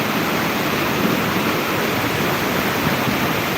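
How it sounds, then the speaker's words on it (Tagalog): Strong floodwater rushes in a loud, steady, broadband roar as it reaches the far end of a bridge, continuous and close with no pauses. "Lakas ng tubig."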